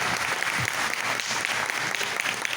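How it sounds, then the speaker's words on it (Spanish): A church congregation applauding during a Spanish-language service, a continuous loud wash of clapping from many hands throughout. "Vamos a darle un fuerte aplauso a nuestro Señor Jesucristo"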